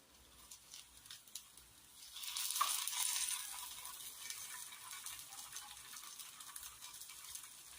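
Kara kuzhi paniyaram sizzling in a pan after being flipped, a quiet crackle that swells into a steady frying hiss and continues softly, close up with no talking.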